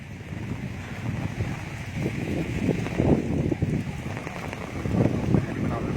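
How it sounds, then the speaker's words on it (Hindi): Strong wind blows across a muddy, flooded river embankment in Bihar, a loud, gusting rumble of microphone buffeting that swells and surges throughout, with rain falling and someone talking faintly in places. "हवा भी है बहुत ज्यादा।"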